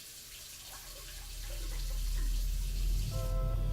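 Tap water runs into a sink, a steady splashing stream that grows fuller and louder over a few seconds, with a brief ringing tone near the end as the flow changes.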